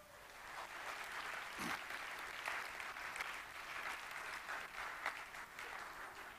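A crowd at a company's annual meeting claps in a steady, even round of applause that fills the whole stretch, captured faintly and at a distance, with a few sharper claps standing out.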